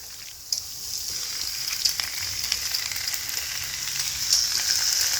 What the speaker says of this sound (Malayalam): ഇനി നമുക്ക് ഇതിനകത്തേക്ക് ചിക്കൻ ബ്രസ്റ്റ് ആഡ് ചെയ്ത് കൊടുക്കാം